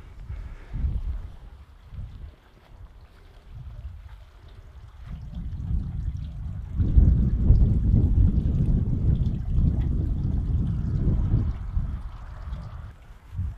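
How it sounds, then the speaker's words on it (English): Low, continuous rushing water, quiet at first and then swelling into a steady louder flow that holds to the end, with no voices. "Now this is interesting because I can hear running water."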